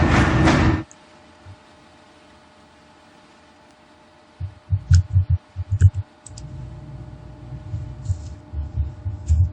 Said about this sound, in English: Here the train passes under another bridge.